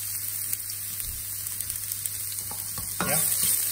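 Garlic and ginger frying in a pan for stuffed portobello mushroom tarts, a steady close sizzle with a low hum beneath, swelling a little louder near the end as the pan is stirred.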